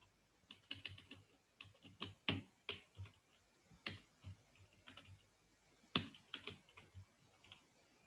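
Code being typed on a computer keyboard during a Spring JDBC programming session, with irregular bursts of quiet key clicks and a few sharper, louder strikes, close up and without talk.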